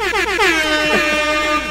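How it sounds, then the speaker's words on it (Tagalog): A loud, blaring DJ air horn sound effect sounds in a rapid series of rising, stuttering blasts, then holds a long sustained tone before cutting off. "That deserves a DJ air horn."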